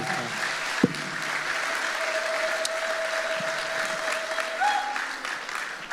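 A church congregation claps together during a sermon, a dense and sustained round of applause that fills the whole stretch at steady loudness.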